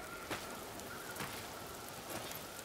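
Steady rain hisses through a dark fantasy game level in Vermintide, an even wash of falling drops with a few brief louder swells and no voices.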